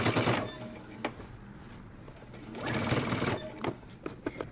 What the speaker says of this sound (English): I'm gonna turn this over and I'm gonna stitch through all layers